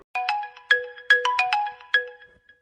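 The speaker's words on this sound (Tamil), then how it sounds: "திரும்ப திரும்ப கால் பண்ணுறாங்கல்ல இது முக்கியமான ஃபோன் காலாக இருக்கும்" An incoming call's phone ringtone chimes in a bright melodic pattern of short repeated tones, clear and moderately loud, with no talk over it.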